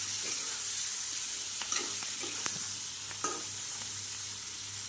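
Vegetables, including flat beans, fry lightly in a pan with nigella seeds, a constant soft sizzle overlaid by occasional scrapes and taps of stirring, with no voices.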